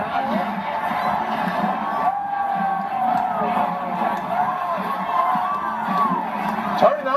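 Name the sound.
crowd cheering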